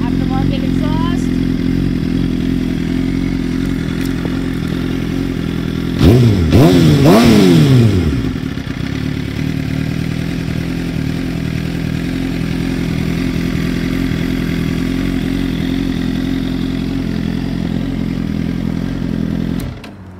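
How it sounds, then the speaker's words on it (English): A 2012 Suzuki GSX-R750 L1 with a 750cc liquid-cooled engine and aftermarket exhaust idles loudly, then revs sharply in a quick burst of rising and falling blips before settling back to a steady idle. "This is a 2012 Suzuki GSXR 750 L1."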